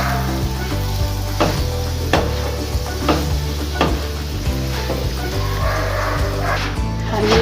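A radish paratha fries in ghee in a pan with a continuous close sizzle, broken by regular scraping thumps as it is moved around, over a steady low hum; no clear speech.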